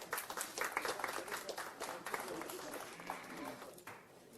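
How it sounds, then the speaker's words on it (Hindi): Enthusiastic audience applause fills a surprise pre-birthday celebration for actor and radio host Annu Kapoor at a 92.7 BIG FM event, steady dense clapping with crowd noise running throughout and easing slightly near the end. "मैं चाहता हूं कि एक बार जोरदार तालियां हो जाए।"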